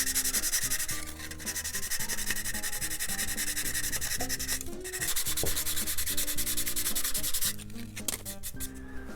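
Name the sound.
sanding excess epoxy off a model plane wing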